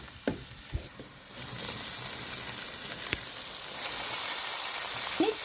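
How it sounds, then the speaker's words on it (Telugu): Chicken pieces hit a pan of cooked-down tomatoes, giving a soft, steady sizzle with a few clinks and stirring scrapes, fairly quiet and close, the frying hiss growing fuller toward the end. "ఇప్పుడు ఇందులో చికెన్ అయితే వేసుకుందామండి."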